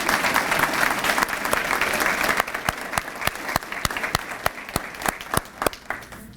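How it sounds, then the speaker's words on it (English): Audience at a school awards ceremony breaking into a big round of applause, dense and loud at first, then thinning into scattered individual claps toward the end. "A big round of applause to Tameka."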